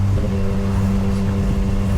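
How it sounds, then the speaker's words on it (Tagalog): A CFMoto 675 SRR motorcycle engine revs steadily up close, a low throaty drone with strong harmonics that holds throughout without pause. "Parehas yan tunog ng motor ni Gentil."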